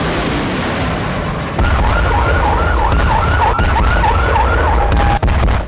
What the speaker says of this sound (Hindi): 23 नवंबर की शाम को ही इजराइल में सायरन गूंजने लगे